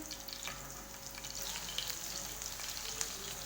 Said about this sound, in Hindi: फिर दोनों साइडों से हमने अच्छी तरीके फ्राई करना है।